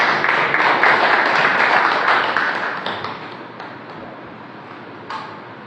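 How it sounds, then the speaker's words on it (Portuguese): Applause from a seminar audience on the second night of a festivals event, a dense wash of clapping that starts strong and gradually thins and fades over several seconds. "uma salva de palmas para você e viva a cultura"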